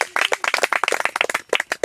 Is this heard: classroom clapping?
yes